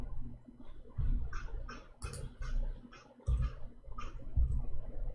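Computer keyboard keys pressed in short bursts of sharp clicks and taps, with occasional heavier thumps, close and fairly quiet.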